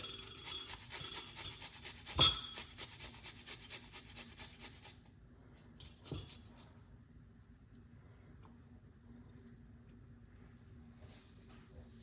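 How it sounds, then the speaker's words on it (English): Two garlic cloves being grated make rapid, close rasping strokes at first, with one sharp scrape standing out. The strokes then fade to faint, sparse scratches over a quiet background. "we're gonna grate the garlic"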